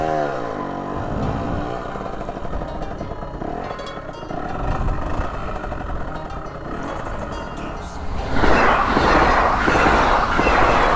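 A train passes close by with a rising broadband rumble and rattle in its final seconds, heard alongside the revving, shifting engine of a Gilera SMT motorcycle racing beside the track.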